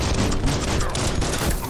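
Gunfire from the Biomutant video game crackles in a rapid, dense burst, a loud continuous rattle of shots lasting under two seconds with no pauses.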